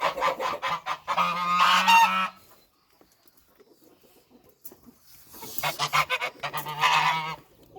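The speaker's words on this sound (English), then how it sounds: "Hey, geese, geese, geese." Farmyard geese honking loudly and close, two clustered bursts of harsh repeated honks separated by a few seconds of near silence.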